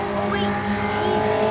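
A blue Ford Cortina race car passes at Donington Park during a classic touring car race, a steady engine drone at moderate distance with the sound of other cars mixed in and voices chatting over it.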